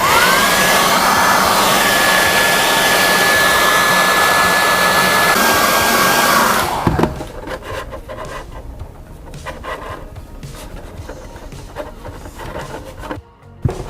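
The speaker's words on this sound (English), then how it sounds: "I heat up the decals and push them down." A heat gun blows loudly and steadily for about seven seconds while warming decals on a Tamiya Land Cruiser model body, then cuts off, leaving faint handling and rubbing sounds.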